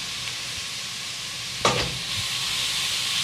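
Two tablespoons of garlic scape pesto dropped into a hot pot for matzo ball soup, giving a sudden sizzle and stir that bursts up loudly, then settles into a steady frying hiss.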